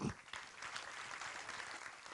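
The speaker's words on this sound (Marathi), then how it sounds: "त्यांना एकदा आपण टाळ्या मारूया." An audience at a Marathi stage event breaks into dense, sustained clapping, a steady wash of many hands that fills the whole stretch at moderate loudness.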